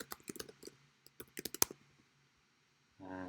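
Keys on a computer keyboard click in a quick irregular burst of sharp taps, close and fairly quiet, then fall silent before a voice begins.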